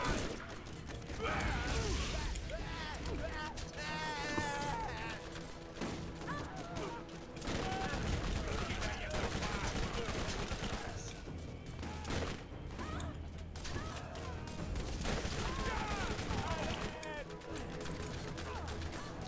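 Bursts of gunfire and clattering weapon mechanisms from the video game Borderlands, on a mission on the way to Sledge, crackling close and loud over a long stretch while several people talk in French.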